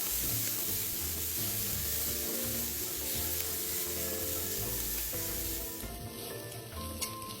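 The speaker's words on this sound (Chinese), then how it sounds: "将所有食材一起拌炒至香味溢出" Chopped Chinese sausage and minced garlic stir-frying together with small dried shrimp in a wok, producing a dense, continuous close sizzle with rhythmic stirring and scraping throughout.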